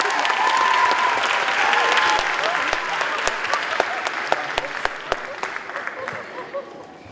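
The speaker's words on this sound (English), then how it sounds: "Please give them a warm applause." Warm audience applause for fifth grade students at a school moving-on ceremony, a full crowd clapping that gradually thins into scattered individual claps toward the end.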